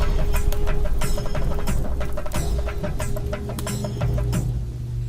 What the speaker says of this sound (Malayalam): കോഴിയാണ് നേർച്ച.